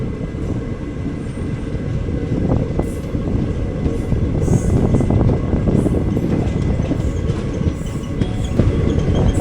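The 06061 Summer Special Express from Ernakulam to Velankanni rumbles steadily along the track, heard from on board as a loud continuous roar with rattling wheel clatter and occasional metallic clicks.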